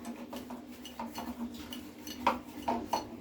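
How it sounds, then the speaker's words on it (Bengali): A dal masher stirs vegetable dal in a metal pot, giving soft irregular clinks and taps against the pot's sides, quiet and close, with a couple of sharper knocks near the end. "এবার ডাল কাটা দিয়ে আমি নাড়িয়ে নেব ডাল কাটাটা দিয়ে নাড়িয়ে নিতে হবে এইভাবে"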